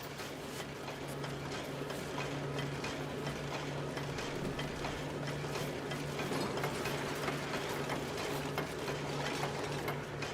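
A steady mechanical pump in Oxygen Not Included runs continuously at a constant level, a busy clicking, ratcheting texture over a low steady hum.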